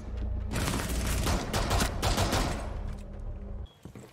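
Dense, rapid gunfire in Rainbow Six Siege, a sustained burst of close, loud shots lasting several seconds before cutting off abruptly into quiet.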